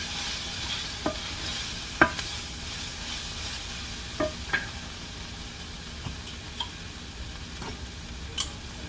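Salt, black pepper and other seasonings being stirred into a frying mixture in a pan: a steady low sizzle with a scattering of sharp spoon clicks and scrapes at irregular intervals, close by and without talk.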